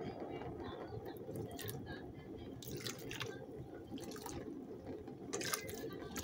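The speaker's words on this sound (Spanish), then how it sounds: "Así de agua, un chorrito de agua." A small splash of water poured into a cooking pot on a lit stove, a steady trickling and dripping under faint background noise.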